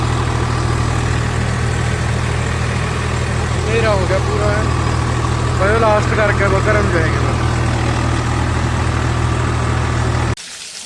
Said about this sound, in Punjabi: ਲੈ ਵੀ ਟਰੈਕਟਰ ਆ ਗਿਆ ਘਰੇ